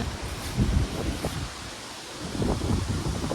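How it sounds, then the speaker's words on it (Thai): Cold outdoor wind blows in gusts, a broad rushing roar that buffets the microphone and swells and fades over a few seconds, with no voices. "เสียงลม"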